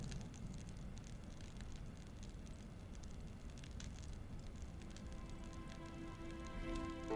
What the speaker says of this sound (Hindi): बारान रहमत यूं बरस रहा है जैसे आखिरी बार हो।